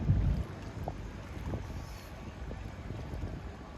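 A barge crosses the water at Hangarakatte port, heard as a low, steady rumble under heavy wind buffeting the microphone, with a brief louder thump at the start and no talk.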